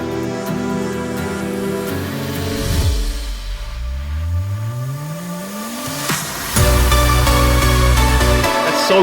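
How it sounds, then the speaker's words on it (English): An EDM transition built in FL Studio, where a deep sub drop sweeps steadily downward beneath a loud electronic mix. A brief gap follows, then the track slams back into the breakdown at full volume. "I have like this weird sub drop."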